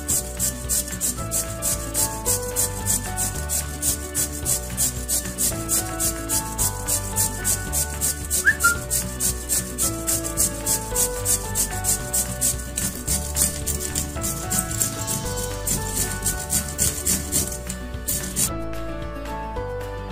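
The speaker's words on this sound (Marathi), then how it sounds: "आता साल काढून घेतलेली हळद किसून घेत आहे" Peeled fresh turmeric root is grated coarse on a hand grater, a steady rhythmic rasping and scraping, close and continuous for about twenty seconds.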